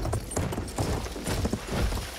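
Horse hooves clip-clop steadily in the video game Battlefield 1, a continuous rhythmic trotting amid dense game sound, with no talking.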